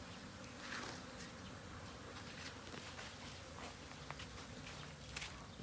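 Flies buzz continuously around bait set out for fly control at a pig farm, a faint, dense insect drone with scattered close passes and no speech.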